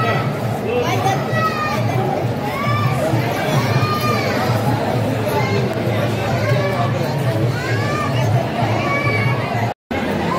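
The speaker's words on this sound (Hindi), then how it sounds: "तमाम भीड़ है गाइस, देख सकते" A dense crowd at Shahjahani Masjid near Gate 10 of Ajmer Sharif on a Friday, with steady babble of many voices, children's shouts and calls rising over a continuous close hubbub.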